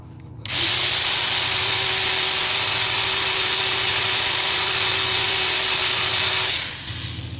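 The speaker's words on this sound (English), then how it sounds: "Start with a tiny drill." Small lubricated drill bit boring into a rivet on a truck frame, a loud steady high whine that starts suddenly, holds for about six seconds and then winds down to an idle.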